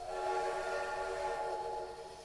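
A train horn pulled in the video game Poppy Playtime blares as one continuous, steady chord. It is loud and sustained throughout, easing slightly at the very end, with no speech over it.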